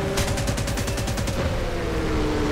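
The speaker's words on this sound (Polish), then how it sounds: "a już do mnie strzela, ale mu się wybijam" Rapid burst of enemy aircraft machine-gun fire in a WWII flight combat game, a dense rattling string of shots over a steady droning engine hum, no voices.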